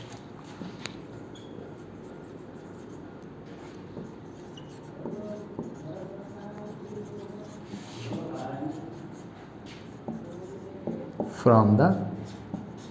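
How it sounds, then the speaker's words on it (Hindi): A marker or chalk scratches across a classroom board in short strokes, soft rubbing that grows louder near the end, under a teacher's steady speech. "मैं लिखता हूं"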